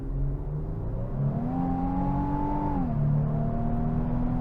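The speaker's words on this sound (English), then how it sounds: "That engine sounds pretty cool." Night drive in a 2025 Infiniti QX80 under throttle: the engine revs up smoothly and holds a rising drone, then dips briefly as it shifts before pulling on, heard from inside the cabin with no talking.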